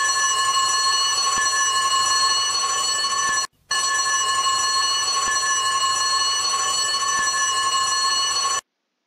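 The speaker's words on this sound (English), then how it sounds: "and then you've got the bell here" A fire station bell rings in a Roblox game based on Fireman Sam, a loud, continuous electronic ring that cuts out for a moment midway and then resumes until it stops.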